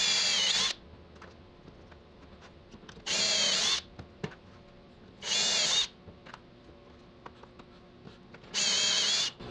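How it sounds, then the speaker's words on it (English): A power drill drives pocket screws into 2x4 lumber in four separate whirring bursts, each lasting about a second, with quiet workshop pauses between them and no talking. "I'll use pocket screws to do that"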